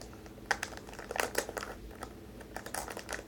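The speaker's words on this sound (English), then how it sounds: "So I have this green jelly slime. That is clicky slime." Green clicky jelly slime being squeezed and squished, with a steady run of soft close clicks, crackles and pops.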